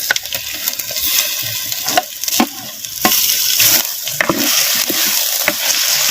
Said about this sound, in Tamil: சேர்த்த மட்டனை அப்படியே நல்லா வெங்காயம் இஞ்சி பூண்டு விழுதுகளோட அப்படியே நல்லா கிண்டு நல்லா கிண்டி விட்டு எண்ணெயில் சேர்த்த மட்டன் நல்லா வதங்கட்டும்